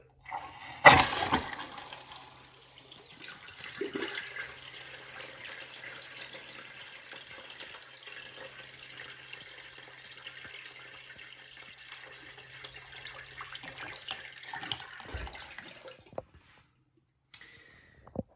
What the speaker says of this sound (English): the first time I flushed this thing, the water like shot out of the bowl